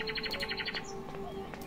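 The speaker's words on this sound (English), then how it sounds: "these crows are talkative today" Crows calling in the video game Midnight Scenes: a quick run of short, repeated calls at a steady rhythm, then a few scattered chirps over a low ambient hum.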